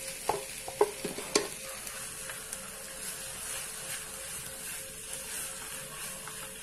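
A mashed potato mixture for beetroot cutlets is sautéed and stirred in a pan: a few sharp spatula knocks come first, then a faint steady sizzle continues alone.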